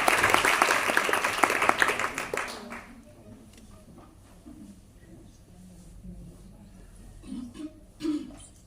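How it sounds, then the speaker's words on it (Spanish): An audience at a talk on endometriosis and infertility applauds the introduced doctor: dense clapping for about three seconds that then stops, leaving room tone and soft stray sounds. "Un caluroso aplauso para el doctor Salvador García Aguirre."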